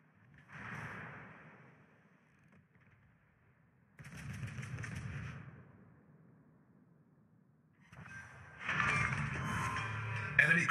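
Cruisers in a naval battle game fire armor-piercing shells at a battleship, heard as three separate bursts of gunfire, each followed by a rumbling decay. The last burst is the loudest and densest, and the whole passage sounds fairly distant and quiet.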